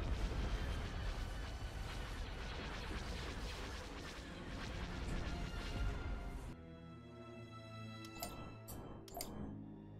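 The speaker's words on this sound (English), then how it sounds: "Ion cannon firing." Ion cannon firing in a Star Wars space battle game, a dense, sustained barrage of heavy booming blasts for several seconds, then cutting to quieter sparse sharp zaps and shots over a thin background.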